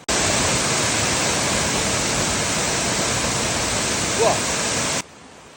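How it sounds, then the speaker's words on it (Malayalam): A small waterfall near Thenvarikkallu in Kerala rushes in a steady, dense roar of falling water, loud and close, before cutting off abruptly. "താഴെ രണ്ട് വെള്ളച്ചാട്ടമുണ്ട് കുഞ്ഞിതാണേലും കാണാൻ നല്ല അടിപൊളിയാണ് കേട്ടോ ഈ വെള്ളച്ചാട്ടവും"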